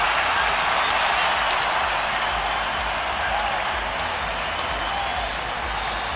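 A stadium crowd in San Jose roars after a home side's goal at an MLS soccer match, a dense, sustained wash of cheering and clapping that stays loud throughout.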